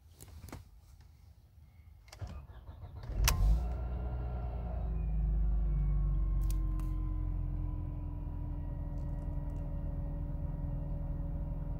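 Mercedes-Benz W203 C180 Kompressor from 2006 with the M271 engine cranking and firing up from cold, a few clicks then a sudden start settling into a steady, rumbling idle with a slight surge.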